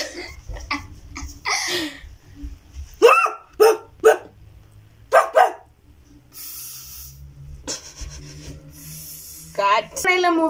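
A person imitates a dog acting as if it needs to pee, with short, sharp yelping bursts scattered between stretches of casual talk, close and fairly loud.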